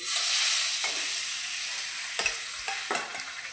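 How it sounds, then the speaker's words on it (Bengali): Cut pieces of large fish frying in a pan, a loud continuous sizzle with a few scraping stirs and clinks of a utensil partway through, no voices. "মাছগুলো কেটে এবার ভেজে নিচ্ছি"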